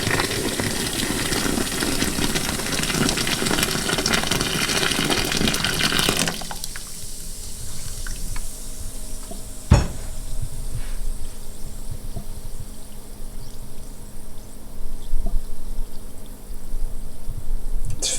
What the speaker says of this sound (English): pour more boiling water on it